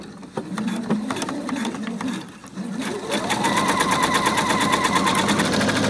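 A sewing machine set to a 2.5 mm stitch length runs along the top edge of a skirt with smocked elastic band, a close, rapid mechanical whir that starts uneven and then settles into a steady, fast stitching rhythm.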